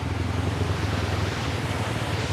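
Water rushes out from a power house outflow on the Shimshal road, a steady, dense roar with a heavy low rumble, continuous and fairly strong throughout with no voices.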